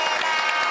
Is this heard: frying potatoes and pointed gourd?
no